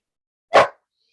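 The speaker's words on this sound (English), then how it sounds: "Puppy says, cheers, everyone." A puppy lets out a single short, sharp bark, close and clear against otherwise silent surroundings.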